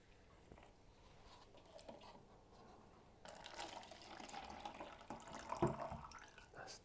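Tap water runs over tomatoes being rinsed, a faint trickle that grows into a louder, splashing flow partway through, with light handling noise and no speech.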